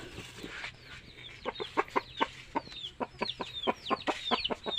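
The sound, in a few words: chickens clucking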